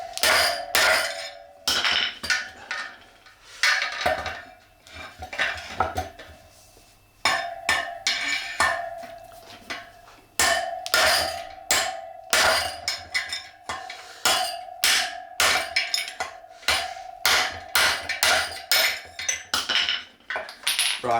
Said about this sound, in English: I'm just using a drift here to just knock the bearing through the bottom drift